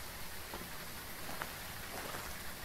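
Steady rain ambience from the Phasmophobia ghost-hunting game, a dense, even hiss of rainfall on surfaces with scattered louder drops, constant and moderately loud throughout with no talking.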